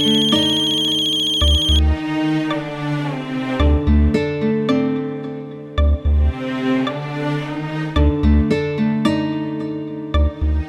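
A melodic telephone ringtone plays loudly and repeatedly, a bright chiming tune cycling over a thumping beat, with no talk over it.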